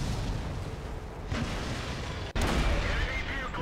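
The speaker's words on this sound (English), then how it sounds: "artillery just blew the crap out of that Tiger" An artillery shell strikes a Tiger tank in the World of Tanks game. A loud, dense roar of battle noise cuts out abruptly for an instant and then bursts back in heavier.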